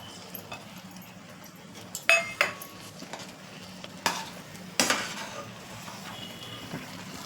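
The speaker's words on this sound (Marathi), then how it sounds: "हे बघा मस्त फिरवून घेतलेले आहे" Wheat-flour halwa with banana and jaggery being stirred in a pan, with a soft background sizzle and several sharp spoon clinks and scrapes against the metal.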